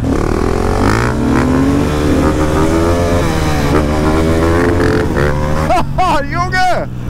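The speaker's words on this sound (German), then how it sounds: "Das war der fucking Begrenzer." A motorcycle engine revs hard up to its rev limiter, a loud, sustained, rising whine that stutters and bounces at the top, with excited voices shouting over it.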